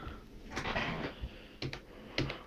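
A handful of sharp, quiet key clicks on a Microsoft All-in-One Media Keyboard, tapped in small irregular bursts close to the microphone with pauses between them.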